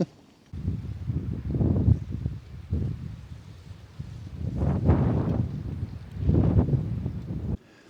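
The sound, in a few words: strong wind outside a trekking pole tent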